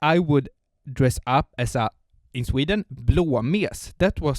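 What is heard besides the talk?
No everyday noises stand out.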